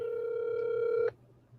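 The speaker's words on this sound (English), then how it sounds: "let me make a few calls right now" A telephone line being dialed for a call gives a steady, buzzy tone with several overtones. It holds for about a second, then cuts off abruptly, leaving a faint background hum.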